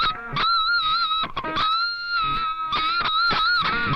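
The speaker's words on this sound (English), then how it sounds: "but when I do artificial harmonics, it sounds like this." Electric guitar through distortion playing artificial harmonics: several sharp, piercing picked notes with strong sustained overtones, loud and close, separated by brief gaps and no talking.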